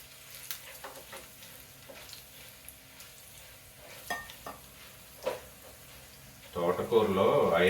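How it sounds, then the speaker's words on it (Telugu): Hot oil tempering is poured over an amaranth leaf and raw mango dish. After a few quiet seconds of faint kitchen clatter, a loud, close, sudden sizzle bursts out and keeps going to the end. "ఇలా వేసుకొని దీని మీద తాలింపు వేసేసి"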